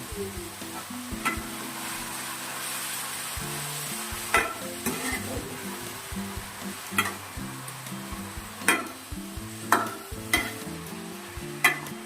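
Onions fry in a pan for a beef dish, a constant sizzle broken by repeated scraping strokes of a spoon stirring them, close and fairly regular.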